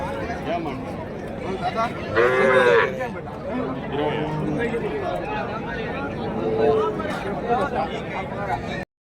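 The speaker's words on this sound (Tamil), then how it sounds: "பெரிய பெரிய இது பெரிய பெரிய மாடுங்க எல்லாமே வரும்" Cattle and calves at a rural Friday livestock market in Krishnagiri district bellow in several loud, close moos amid a steady hubbub of people talking nearby.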